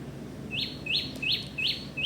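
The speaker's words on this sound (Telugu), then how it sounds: "చెట్ల కింద పక్షులు అరుస్తుంటే" Small birds calling in trees at a resort in Tirupati, a regular series of four or five sharp high chirps, moderately near, over a low steady background hum.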